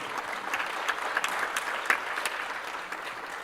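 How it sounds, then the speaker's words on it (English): Audience at the 2024 World Bio Summit special session gives a sustained round of dense applause, steady and fairly loud throughout with no voices over it. "another big round of applause, please."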